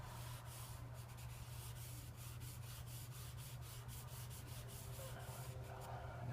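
Charcoal rubs and scratches across paper in a steady, close, continuous stream of strokes, with a faint low hum running underneath; no one speaks.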